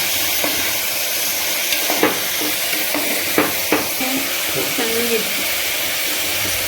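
Cauliflower and pigeon peas fry in a pan for a fenugreek-leaf vegetable palav, giving a steady broadband sizzle with a few sharp clicks of stirring and utensil taps; no one speaks.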